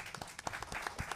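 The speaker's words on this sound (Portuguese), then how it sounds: "Uma salva de palmas, por favor" Audience applause at a municipal environmental committee hearing, a brief scattered round of hands clapping, moderately close and quiet, with distinct individual claps rather than a dense roar.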